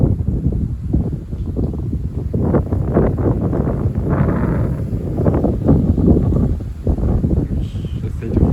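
Strong wind gusts from storm Darragh roar through a fir tree, a loud, continuous broadband rush that swells and eases in waves, with wind buffeting the microphone.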